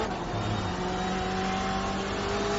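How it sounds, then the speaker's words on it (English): A race car with side-exit exhaust ahead of the right-hand door roars steadily during a GT3 endurance race in a racing video game, a loud continuous engine drone that shifts pitch slightly as it accelerates. "It's got side exit exhaust just ahead of the door on the right hand side, which contributes to that distinctive noise of that big brick"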